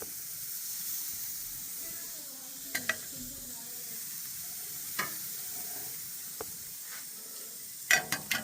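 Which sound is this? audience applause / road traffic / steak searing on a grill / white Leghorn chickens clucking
steak searing on a grill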